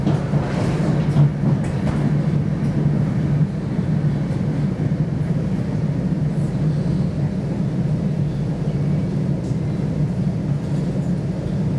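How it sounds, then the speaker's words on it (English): An NJ Transit main line train pulls into a station, a steady low rumble of wheels and carriage noise heard from on board, continuous and fairly loud throughout. "we're pulling into our next stop, Delawana."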